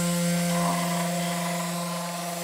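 A 3018 CNC machine inside a debris containment enclosure mills with a steady high-pitched whine and tonal spindle hum, continuous and close throughout.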